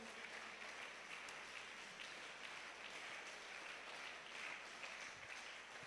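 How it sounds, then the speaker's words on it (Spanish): A church congregation applauds steadily and evenly throughout, a dense wash of many hands clapping at a distance with no voices rising above it. "¿Será que usted puede brindarle un aplauso al Señor?"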